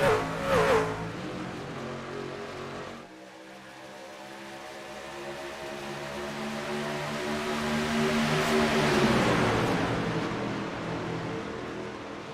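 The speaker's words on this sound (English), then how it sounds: "They hear those trucks power up." Race trucks powering up at the green flag, a rising engine roar that swells into a broad, loud rumble, fades briefly and then builds again as the field accelerates past.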